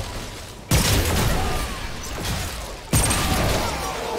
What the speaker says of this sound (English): I'm getting good with artillery shots